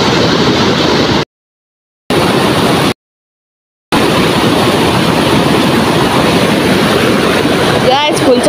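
A river rushes past at Gajurmukhi Dham, a loud, steady broadband roar of flowing water close by, broken twice by short stretches of total silence.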